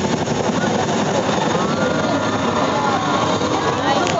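A Chinook twin-rotor military helicopter at an air show, hovering while troops disembark; a dense, constant loud engine and rotor roar fills the scene without pause, with faint commentary mixed beneath.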